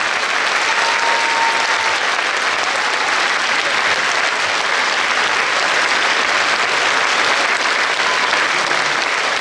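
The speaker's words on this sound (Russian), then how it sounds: "Особые аплодисменты!" A theatre audience applauds at the 1000th performance of the rock opera Jesus Christ Superstar, a dense, steady roar of many hands clapping that fills the hall evenly for the whole stretch.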